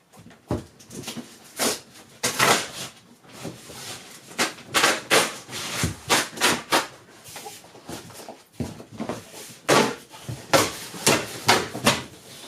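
Cardboard delivery box holding a Super73 Z Miami e-bike being opened, with repeated close scraping, tearing and thumping handling noises in irregular bursts.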